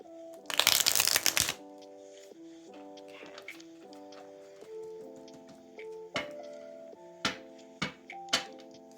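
A deck of tarot cards being shuffled in a loud, fluttering riffle near the start, followed by softer card handling with a few sharp taps and snaps, over a faint sustained musical tone.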